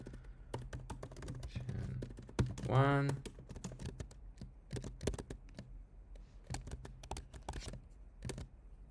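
Fast, irregular clatter of keys being typed on a computer keyboard, close and fairly steady, with a brief tonal whistle-like sweep partway through and some low background hum.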